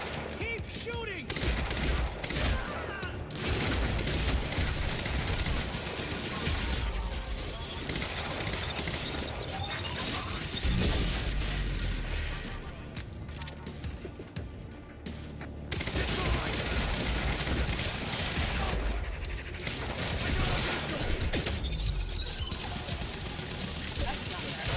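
Dense video-game gunfire from Quantum Break, sustained volleys and bursts of shots filling the whole stretch with little letup, a voice talking over parts of it.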